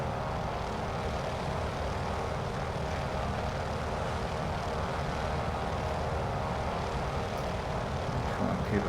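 A Noorduyn Norseman radial-engine aircraft in Microsoft Flight Simulator 2020 drones steadily with a deep, rumbling engine and propeller tone, constant and fairly loud throughout in flight.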